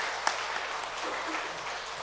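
A church congregation at Sunday worship applauds after a choir and chamber ensemble perform, producing a soft, steady wash of clapping that carries on evenly for about two seconds.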